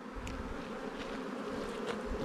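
Honeybees buzz steadily around brood frames in an open hive, a close continuous drone with no talk.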